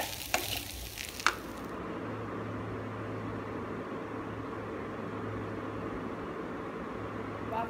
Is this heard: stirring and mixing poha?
yes